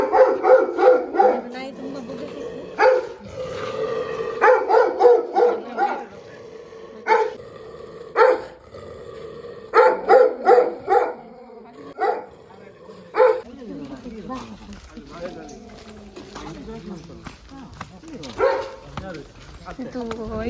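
Dogs shut in kennels bark in repeated bursts, with yips, whimpers and a low growl, close and fairly loud, falling quiet between volleys while people talk nearby.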